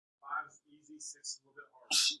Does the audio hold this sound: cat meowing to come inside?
no